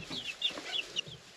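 Backyard chickens on an off-grid homestead cluck and squawk in a short run of close, irregular calls over quiet surroundings, with no talk.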